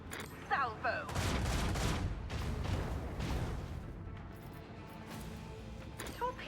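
Starship weapons salvo in Warhammer 40k Rogue Trader, a dense barrage of booming, crackling blasts that swells and then tails off over several seconds, with a synthetic chirping effect at the start.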